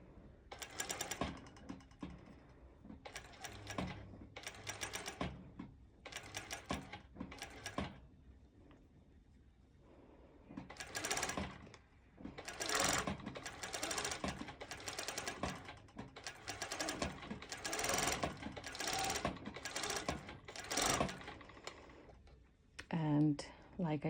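A cover stitch machine sews fold over elastic onto festival wear in quiet bursts of rapid mechanical ticking, with short gaps between runs.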